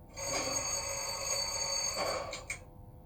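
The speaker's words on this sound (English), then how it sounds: "is what's identified as a door alarm" Door alarm from a Zimo decoder in an LGB holiday trolley, a continuous electronic bell-like ringing tone held for about two and a half seconds before cutting off, moderately quiet and close.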